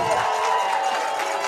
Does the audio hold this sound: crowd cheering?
yes